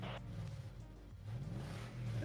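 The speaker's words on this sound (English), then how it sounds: "It's just revving." A car engine revs steadily and loudly up close, its drone rising and falling in a few swells over a couple of seconds with no talk over it.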